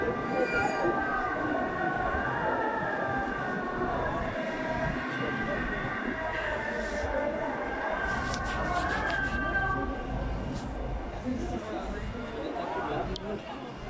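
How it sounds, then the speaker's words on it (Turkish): An ambulance siren wails continuously in the background, rising and falling, while a train rumbles and people talk nearby, at a fire in Güngören, Istanbul. "Evet ambulans yeni geliyor."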